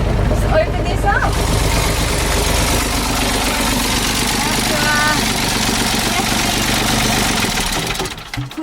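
Sailboat engine idling in a steady mechanical chug with rhythmic knocking, running evenly before being switched off and fading out in the last moment, with speech over it.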